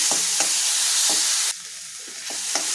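Finely chopped onion and tomato, with a pinch of asafoetida, sizzle in a pan for a spicy ragda base. The frying hiss stays constant, with several sharp spatula clinks and stirring scrapes, and it drops suddenly to a softer sizzle midway.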